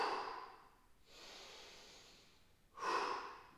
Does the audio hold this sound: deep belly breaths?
yes